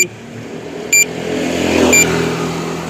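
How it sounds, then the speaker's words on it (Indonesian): A car or motorcycle passes close by in a residential neighbourhood, its engine noise swelling and fading over a few seconds, with a steady background hum and no voices. "jadi banyak suara mobil atau motor lewat ya"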